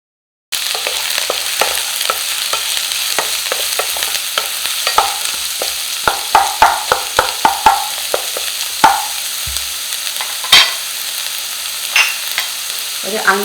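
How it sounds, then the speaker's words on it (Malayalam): Two chopped onions frying in coconut oil in a hot pan, a steady bright sizzle with repeated scraping stir strokes and clinks, close and loud with no voices. "പാൻ ചൂടായിട്ടുണ്ട്. അതിലേക്ക് കുറച്ച് വെളിച്ചെണ്ണ, 2 സവാള ചെറുതാക്കി മുറിച്ചു."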